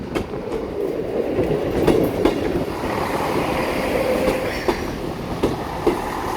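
A train, a 158819 unit heading toward Barmouth, rolls steadily past Tywyn station's foot level crossing, its wheels giving a continuous rumble with rhythmic clicks on the rail joints, close and fairly loud with no talk.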